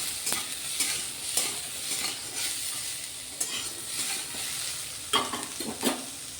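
Onions stirred and fried in a kadai: rhythmic spatula scrapes roughly every half second over a continuous hiss of frying, close up, with no voices.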